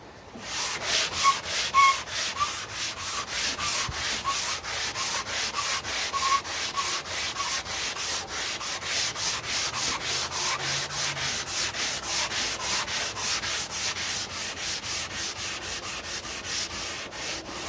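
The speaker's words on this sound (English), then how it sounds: "I'm going to lightly sand the areas where I had already used my mouse sander" A mouse sander lightly works a wooden surface, giving a steady rasping buzz with a regular pulsing rub throughout, close and fairly loud.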